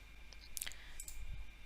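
A few faint, quick mouse clicks over steady room hiss while a MySQL installer runs on Windows 10, the clicks soft and brief.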